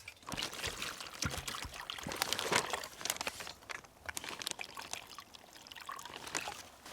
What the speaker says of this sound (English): put maybe half water in here